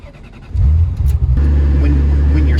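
A manual Ferrari engine turned over with the key catches at once and settles into a loud, deep, steady idle rumble close by, after a short quiet lead-in.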